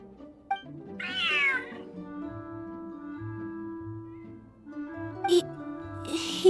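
A single short meow from a cat in the video game Genshin Impact rises over soft, sustained game music, and faint sounds follow near the end.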